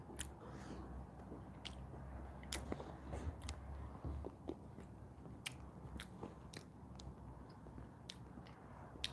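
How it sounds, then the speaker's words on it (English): Close, wet chewing and biting of string cheese right at the microphone, soft squishy mouth sounds repeating irregularly over a low rumble of an approaching train in the background. "Sorry, I'm trying to eat string cheese and a train's coming."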